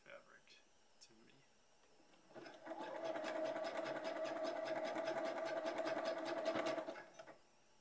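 A sewing machine stitches a long sleeve, starting after a few soft handling noises and a faint whispered voice, then running in a steady, fast, close-up mechanical whir for about four seconds before stopping.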